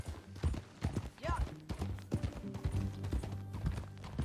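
Horse hooves clip-clop steadily at a walking pace in the video game Red Dead Redemption 2, with a brief horse whinny early on and soft mechanical clatter.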